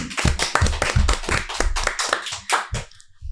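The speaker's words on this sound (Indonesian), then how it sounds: "Lagi tepuk tangan" An audience claps hands at an Indonesian school podcast event, many sharp overlapping claps in a dense, lively burst that thins out toward the end.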